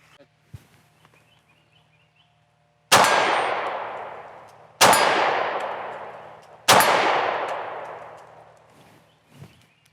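Three loud, sharp shots from a Sig P365 subcompact pistol fired at a 25-yard target, spaced about two seconds apart, each followed by a long ringing decay.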